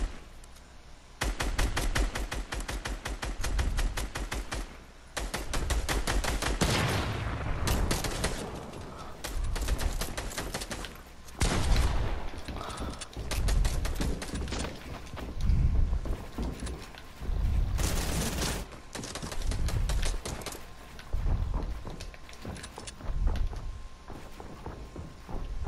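Rapid bursts of gunfire in a Fortnite Battle Royale duos match, loud and repeated across the whole stretch with short pauses between volleys, mixed with other game effects.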